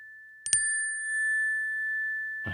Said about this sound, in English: I have a bell going for no reason.